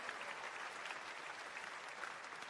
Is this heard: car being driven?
no